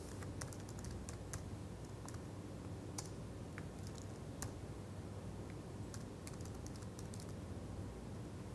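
Someone types on a computer keyboard, entering values into a spreadsheet for a measurement uncertainty calculation, producing soft irregular key clicks over a steady low background hum with no talking.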